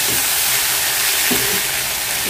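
Sea fish fries in a pan on a gas stove with a loud, steady sizzle, and faint stirring scrapes show through the constant crackling hiss.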